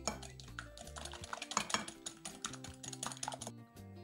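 Dough ingredients with sugar and a pinch of salt beaten hard in a bowl for a strudel with plum jam, giving rapid clattering taps and scrapes close by, alone without talk under a steady musical backing.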